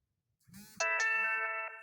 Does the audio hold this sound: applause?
no